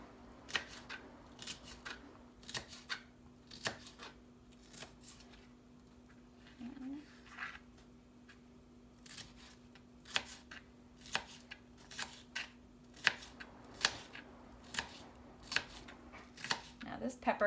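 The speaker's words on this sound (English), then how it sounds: "then we can cut them into these little pieces" Knife dicing bunched skinny strips of red and green bell pepper into small pieces on a cutting board, a steady run of sharp chopping taps, close and fairly quiet, with a faint steady hum beneath.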